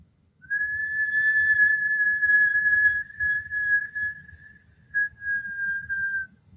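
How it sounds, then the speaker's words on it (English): A long, steady whistling inhale through pursed lips during Kundalini yoga breathing holds one sustained tone for several seconds, then breaks into a few shorter whistled pulses; close and clear, with no talking. "I'm going to take a whistle inhale."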